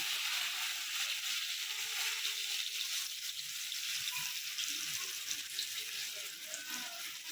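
Mustard added to a hot pan of oil after green chilies fries with a steady, even sizzle, fairly close and unbroken for several seconds with faint stirring underneath.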